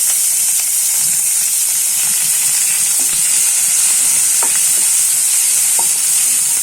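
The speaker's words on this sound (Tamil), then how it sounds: "வெங்காயத்தை சேர்த்துட்டு நல்லா வதக்கிடலாம்" Onions sautéing in hot oil with mustard seeds, dried red chillies and curry leaves for a bitter gourd fry give a loud, steady sizzle, with a few soft spatula scrapes and pops over the top.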